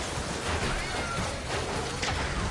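Cartoonish cat meows from a character in the shooter game Plants vs. Zombies Garden Warfare 2, mixed into a dense, loud wash of game noise that runs through the whole stretch.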